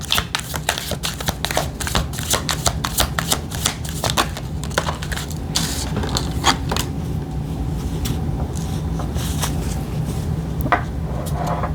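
A deck of cards is riffled and shuffled repeatedly, producing rapid bursts of crisp flicking and snapping close by, settling into softer shuffling and occasional taps toward the end.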